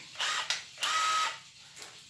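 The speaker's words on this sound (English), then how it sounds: "If you want to do good holes, start your drill facing down and then turn it." A power drill bores pocket holes through a Kreg pocket hole jig in a small workshop, with two whirring bursts of about half a second each, then a faint brief spin.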